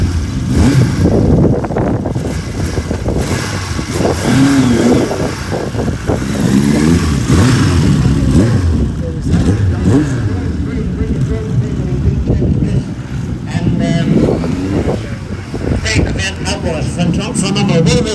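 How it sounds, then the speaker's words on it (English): A big Kawasaki motorcycle engine rumbles and revs at a motorcycle parade while an announcer talks over it throughout, the engine noise loud and close, rising and falling under the voice. "From number one, we've got a big Kawasaki job here."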